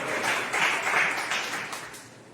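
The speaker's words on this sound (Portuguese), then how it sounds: "Vocês podem aplaudir o Senhor?" A church congregation applauds, with a dense, fairly close wash of clapping that swells and fades over a couple of seconds and has no voices over it.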